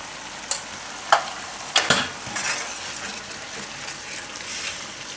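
A gravy with Kashmiri chili cooks in oil, spitting with a steady close sizzle while a spoon clinks against the pan a few times early on, then settles into continuous frying hiss.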